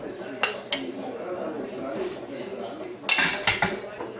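Cutlery cuts a tamale on a plate, giving sharp clinks and scrapes of metal on the dish: a couple of taps early on, then a louder burst of clattering cuts near the end.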